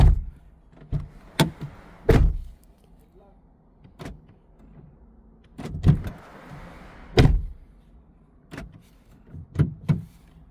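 A 2007 Honda Accord door being worked after a defective door lock motor was replaced: a series of sharp clicks and thuds as the lock actuator cycles and the door moves, close and spaced irregularly, with faint voices in between.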